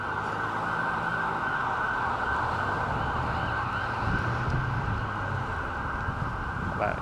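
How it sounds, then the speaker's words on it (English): An ambulance siren wails steadily on a downtown Toronto street, fairly close and continuous, over a bed of traffic rumble and engine noise. "That ambulance was going southbound."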